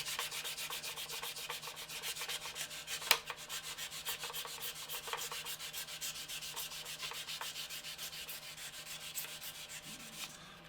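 Steady abrasive sanding across the surface of a model aircraft to strip a Flory weathering wash, a continuous close rasping rub with a few sharper scrapes and no talk.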